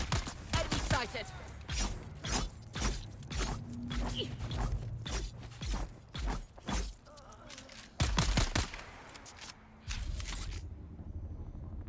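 Grenades explode in the desert survival video game Dune Awakening, giving a busy run of sharp, loud blasts and bangs in irregular bursts, mixed with clanks, scrapes and other game noise.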